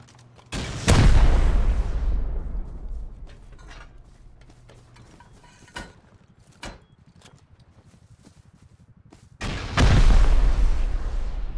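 Grenade blasts in the game Rust, two heavy booming explosions about eight seconds apart, each with a long fading rumble, with faint clanks and thuds in between.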